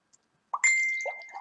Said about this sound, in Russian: СМС-очка пришла.